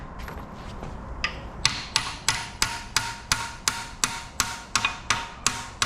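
Repeated hammer blows on a part of a 5.7L LS V8 being built for a 2006 Chevy Tahoe, a steady run of sharp metallic strikes about twice a second, loud and close with no talking.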